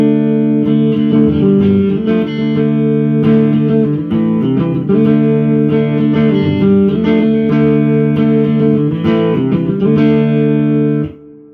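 An electric guitar strums a series of chords in a steady progression, each change clearly struck, with a slightly overdriven tone.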